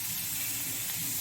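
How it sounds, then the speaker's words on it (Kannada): Carrot masala ingredients fry in a little oil on a low flame, a steady unbroken sizzle with a soft hiss, close but quiet. "ಸಣ್ಣ ಉರಿಯಲ್ಲಿ ಹುರಿದುಕೊಳ್ಳಿ"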